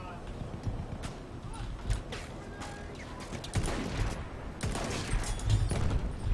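Gunfire in the video game Battlefield 1, scattered sharp shots and bursts over a busy battlefield din, with someone talking over the action.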